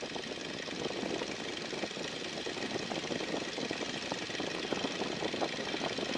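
A 1942 Boeing Stearman biplane's radial engine runs steadily at about 1,500 RPM on the ground, a continuous throbbing, knocking drone with propeller thrum, close and even throughout.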